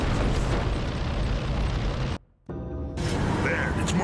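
An exploding gas station in Gears of War: Ultimate Edition gives a loud, continuous rumbling roar that cuts out briefly and then resumes, with a voice speaking over the din.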